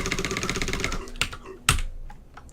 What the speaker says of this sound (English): we pause the game, mash the keyboard for a few seconds